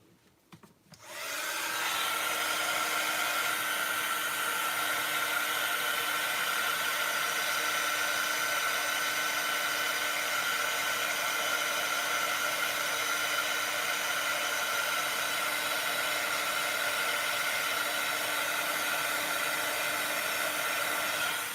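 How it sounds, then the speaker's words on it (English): A heat gun for craft embossing switches on after a moment of quiet and then blows hot air in a loud, steady whir that runs unbroken to the end. "So I'm just going to use my heat gun again."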